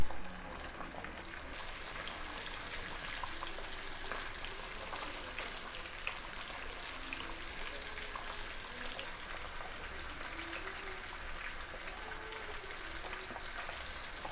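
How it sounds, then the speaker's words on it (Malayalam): Karimeen fish curry boils in an old clay pot, giving a soft, continuous crackling bubble that runs steadily for about fourteen seconds at low volume without speech. "നല്ല തിളച്ച് മറിഞ്ഞ് വരുന്നുണ്ട്."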